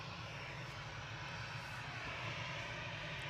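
A Transavia jet bound for Dublin passes over Manchester Airport, a continuous low engine rumble and roar at a steady level, heard alone.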